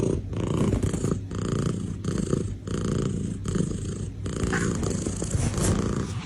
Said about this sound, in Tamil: இந்த பூனைங்க கிட்ட ஃபர்ரிங்ன்ற ஒரு குணாதிசயம் இருக்கு. அதோட அதிர்வெண் பார்த்தீங்கன்னா 25 இருந்து 150 ஹெர்ட்ஸ் வரைக்கும் இருக்கும்.